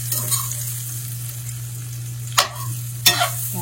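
Eggplant curry with sambar powder sizzles steadily while being sautéed in a pan, with a constant close frying hiss and two sharp scraping stirs near the end.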